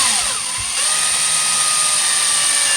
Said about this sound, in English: So I'm just drilling a few little guide holes so we can put those straight through.